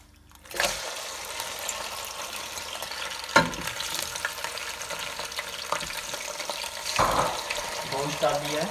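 Meat is frying in hot oil in a pan, a steady sizzle with a few sharp clatters of stirring, fairly quiet and close, with no talking.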